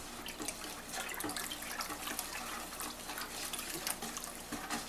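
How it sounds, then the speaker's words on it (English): About 3 pounds of sugar being stirred into a large batch of very sweet homemade wine cooler, a steady close-up swishing and sloshing of liquid with faint scraping, continuous and with no talking. "Stir that in real good."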